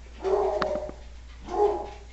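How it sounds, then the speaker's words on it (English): A dog barks in two separate bursts a moment apart, moderately loud and nearby, with no talking. "Excuse the dog, he probably hears me talking."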